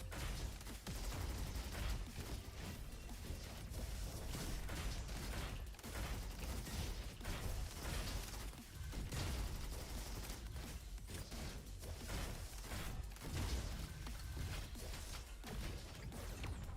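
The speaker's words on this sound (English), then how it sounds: "Oh, shotgun kind of rips." Shotgun fire in a video game, a dense, loud barrage of repeated blasts and clattering mechanical noise that runs continuously with no talk over it.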